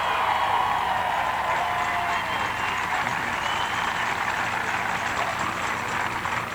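A large street crowd at the 1996 Hunchback of Notre Dame premiere parade in New Orleans applauds and cheers, a steady, dense wash of clapping that holds at an even level from start to finish, with a voice speaking over it.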